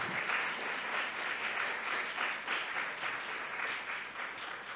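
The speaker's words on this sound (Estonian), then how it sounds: "teeme ühe suure aplausi" An audience at an Estonian environmental education award ceremony breaks into sustained, dense applause, steady and fairly loud throughout with no talking over it.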